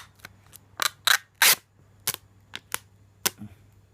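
A package of Thai cheese is opened close up, with a string of sharp plastic crackles and crinkles at uneven intervals and near silence in between, no one speaking.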